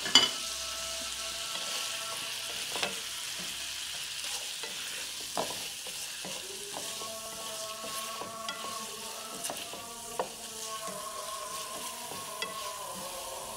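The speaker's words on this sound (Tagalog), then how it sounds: "idadagdag natin yung niluto nating onion kanina guys" Fried onion being stirred into a thick simmering chicken steak sauce, soft bubbling sizzle under repeated spoon scrapes and taps against the pan, quiet and close with no voices.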